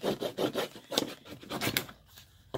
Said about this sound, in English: I'm going to burnish it really well.